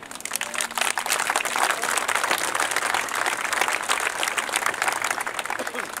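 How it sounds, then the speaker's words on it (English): A crowd at an outdoor commemoration in George Square applauds steadily, dense continuous clapping from many hands heard fairly close. "We need a applause for the chairman."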